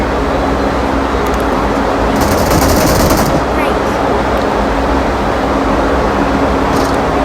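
Gunfire in the mobile battle game PUBG Mobile, loud bursts of shots crackling over a dense, steady rumble of in-game noise, with a brief sharp burst partway through.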